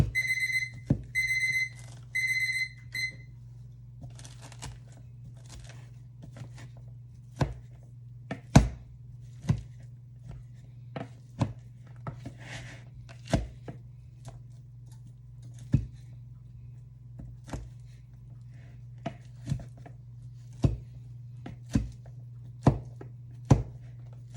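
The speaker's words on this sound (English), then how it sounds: "taking these extra few minutes to kind of chop up this chicken" A knife chops cooked chicken on a board for chicken bog, sharp irregular thunks spaced a second or so apart over a low kitchen hum, following an opening series of quick timer beeps.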